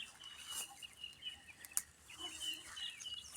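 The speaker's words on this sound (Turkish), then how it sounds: "Kuş sesleri falan bir başka güzel yani arkadaşlar." Faint birds chirp and call now and then over a soft outdoor hiss in Black Sea village hazelnut orchards in late April, distant and sparse, with one brief sharp tap in the middle.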